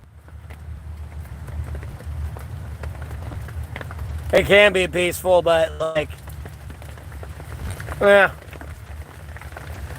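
Light rain patters steadily on a shelter with a low rumble beneath, while someone talks briefly in the middle and again near the end.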